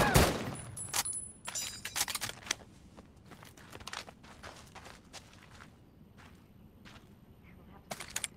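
M1 Garand rifle shots in Medal of Honor: Above and Beyond, several sharp cracks close together near the start and more spread through the clip, with clicking and mechanical handling noises between them, alone without talk.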